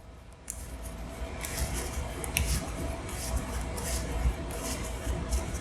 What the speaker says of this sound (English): When it says shuffle, I always do a shuffle anyways